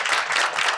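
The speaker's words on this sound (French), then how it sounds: "Je vais vous demander de l'applaudir." Brief burst of audience applause for a Malian singer at a French-language broadcast event, a dense, steady wash of clapping hands filling the short moment without speech.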